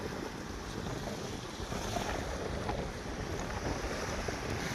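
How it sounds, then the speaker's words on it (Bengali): Strong wind buffets the microphone beside the Rupnarayan river while choppy waves wash, forming a dense, steady roar with no voices. "আজ আমাদের রূপনারায়ণ নদীর এই অবস্থা, প্রচুর বাতাস"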